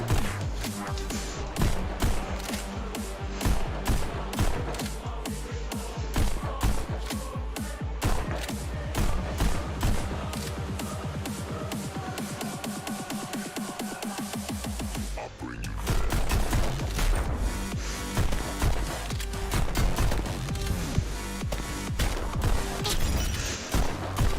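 Rapid gunfire in the VR rhythm shooter Pistol Whip, with sharp pistol shots fired in quick rhythmic bursts over a thumping electronic music track, loud and continuous throughout.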